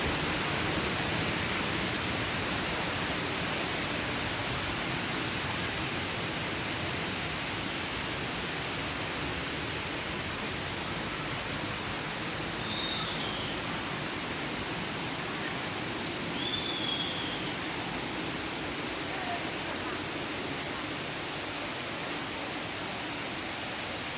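Wang Kan Lueang waterfall flows in a steady, broad roar of moderate strength, constant rushing water for the whole stretch with no voices, only faint high calls barely showing through.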